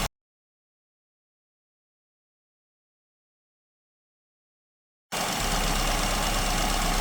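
A car engine idles steadily on an SU carburetor set to its baseline mixture, a close, even rumble that starts abruptly partway through after a long silence.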